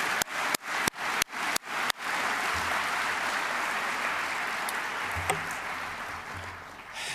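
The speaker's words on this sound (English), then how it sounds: "one more round of applause for Tony Chase" Audience applause at the Greater Houston Partnership 2013 annual meeting for the outgoing chairman, Tony Chase; a few sharp claps come first, then steady sustained clapping from a large crowd that stays even and fills the room.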